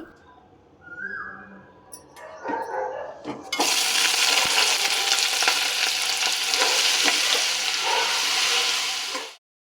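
Onions with salt sizzle in a pan on a stove, starting with a few clinks and bumps before a loud, steady hiss fills most of the stretch and cuts off suddenly at the end.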